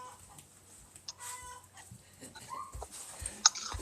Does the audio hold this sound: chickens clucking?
yes